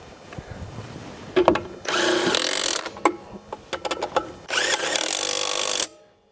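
An impact-style power tool zips and rattles as it drives trailer wheel lug nuts on a Casita travel trailer, in two sustained bursts separated by short ratcheting clicks and clatter, close and fairly loud with no talking.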